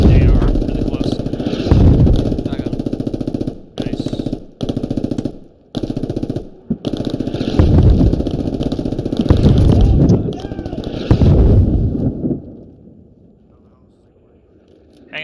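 Sustained automatic gunfire rattles loudly in the military shooter game Squad, mixed with engine rumble and broken by short gaps before it fades out near the end. Players talk over it.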